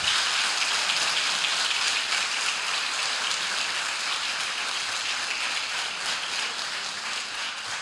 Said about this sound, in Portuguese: Vamos aplaudir o nosso Deus bem forte.